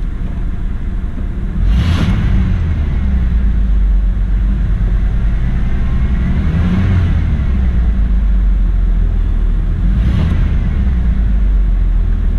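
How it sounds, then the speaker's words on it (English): A Ford F150 pickup truck engine revs from a steady low idle rumble, swelling in three loud surges spaced a few seconds apart and settling back between them. "Let me rev it up here."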